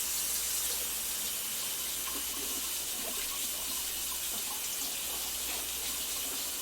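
Tap water runs into a kitchen sink while peppers are rinsed under it, a steady, close gush and splash that carries on throughout with no talking.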